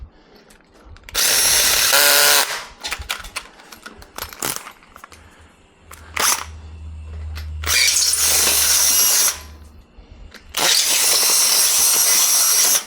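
A drill spins up in three loud bursts, with metallic clinks and scraping in between and a low hum running through the middle.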